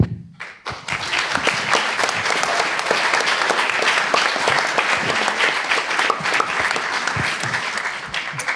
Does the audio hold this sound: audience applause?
yes